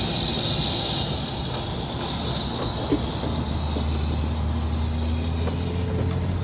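A 1976 Datsun 280Z engine running at high revs while cornering, a steady drone heard from inside the car with road and wind noise, continuous and fairly loud.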